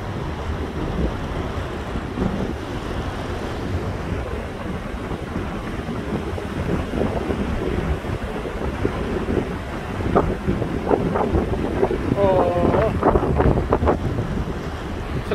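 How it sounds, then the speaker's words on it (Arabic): Strong wind at the corniche beach in Al Hoceima buffets the microphone in a constant roaring rush, with a few faint higher sounds rising briefly near the end. "واحد الريح قوي بزاف."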